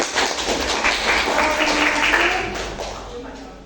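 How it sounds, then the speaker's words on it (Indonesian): Classroom applause, a dense continuous patter of many hands clapping at moderate volume that slowly fades, with voices mixed in. "tepuk tangan buat semuanya"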